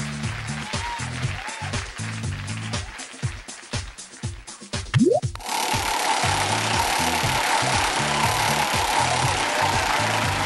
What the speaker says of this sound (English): spin the wheel.